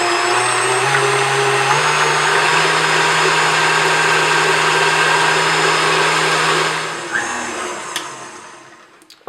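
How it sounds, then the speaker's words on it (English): Electric mixer whipping cream on high speed, a loud steady whirring drone holding level for several seconds, then a slight pitch shift before winding down and fading out near the end. "I'm just going to let the mixer do its magic. Turn it up nice and high."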